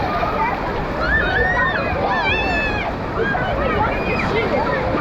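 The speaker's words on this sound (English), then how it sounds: "These are pretty decent waves too." Waves rolling through a water park wave pool, a steady surging wash of water under excited whoops and shouts from people riding tubes.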